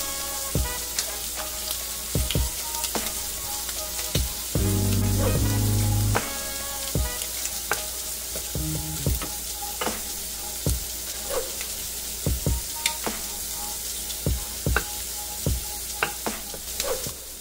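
Shrimp sear in a hot frying pan with a steady sizzle and scattered sharp crackles and pops, swelling briefly into a louder hiss partway through.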